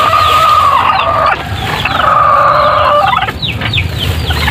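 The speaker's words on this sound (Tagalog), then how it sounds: "hindi akin yan, mga sisiyo na yan" Native chickens and chicks gathered outdoors clucking and cheeping continuously, with sharp peeping calls over a steady flock murmur, loud and close throughout, no talk.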